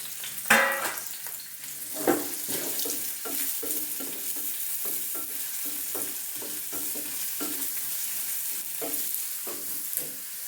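Onions fry in a pan with a continuous close sizzle, punctuated by scraping stirs and a few louder clatters, no voices.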